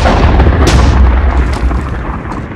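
Cannon firing a cannonball in Minecraft with Balkon's Weapon Mod, a loud booming blast with a sharp crack partway through, trailing into a rumbling tail, no talking.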